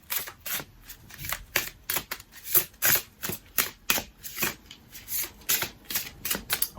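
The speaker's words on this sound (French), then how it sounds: "On va démarrer par une petite coupe et ensuite nous irons voir avec 9 cartes." Tarot cards being shuffled and cut by hand in a steady run of crisp, snappy riffles and taps, up close and clear, with no talking.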